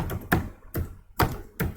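Keys on a computer keyboard are tapped in short, sharp clusters, about four distinct bursts separated by brief pauses, close and fairly quiet.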